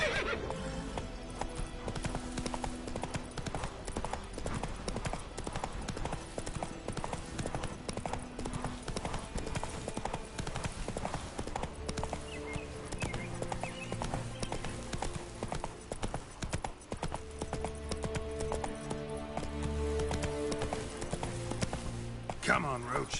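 Roach the horse galloping in The Witcher 3, loud steady clip-clop of hooves with neighing and whinnies, layered over game music and someone talking throughout.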